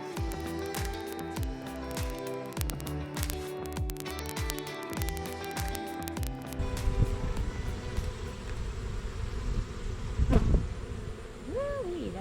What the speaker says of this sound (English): I do not like wasps.